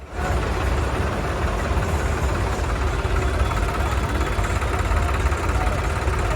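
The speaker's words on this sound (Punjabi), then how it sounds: "ਇੰਨੇ ਟਰੈਕਟਰ ਇਕੱਠੇ ਕਰੇ ਪਏ ਨੇ" A mass of tractors idles together at a farmers' union gathering in a crowded open field, producing a continuous low, rumbling, slightly knocking engine drone that stays loud and even throughout.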